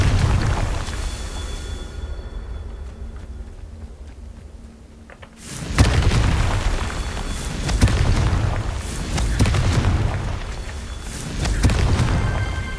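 A Confringo fire spell goes off in Hogwarts Legacy, a rumble that suddenly erupts into a loud boom about midway, followed by roaring, crackling blast noise with further swells, no voices.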